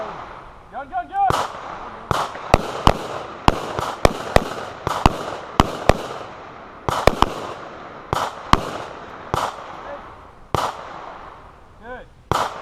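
Sharp carbine and pistol shots crack out at a shooting class, about twenty loud reports in irregular bursts and singles across the stretch, with brief voices near the start and end.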